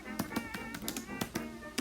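Fingertip taps on a touchscreen, several distinct close taps spaced irregularly as text is entered, fairly quiet with no speech.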